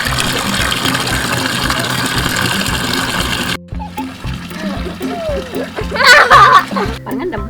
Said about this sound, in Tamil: இந்த டபுள்யூ ஃபுல்லாக தண்ணி நிரப்பிக்கிறேன்.